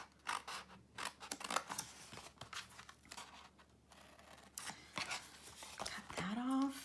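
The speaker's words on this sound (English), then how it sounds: "we're just going to miter the corners or just trim them off a little bit at an angle" Scissors snip the corners of a hexagon twist pocket card at an angle, making several crisp close cuts and paper rustles in quick succession, with quiet background hum.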